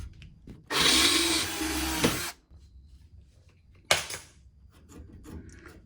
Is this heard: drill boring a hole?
yes